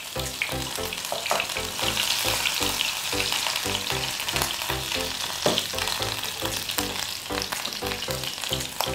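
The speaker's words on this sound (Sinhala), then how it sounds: "ඔය විදිහට තෙල් එක රත් වීගෙන එනකොට අපි ඉඟුරු සුදු ලුණු ටික එකතු කරගන්න ඕනේ" Ginger and garlic frying in hot oil for a tofu curry, a steady dense sizzle with rhythmic clatter of stirring throughout, loud and close with no talking.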